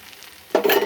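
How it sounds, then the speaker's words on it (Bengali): Cauliflower florets tipped into a hot pan for a Bengali muri ghonto dish, setting off a sudden loud sizzle of frying that holds steady to the end after a quiet start. "এবার আমি ফুলকপিগুলোকে দিয়ে দেব।"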